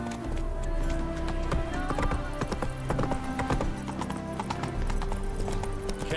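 Hooves clip-clop at a fast gallop in The Witcher 3, a steady drumming rhythm running throughout at moderate level under faint game background sound.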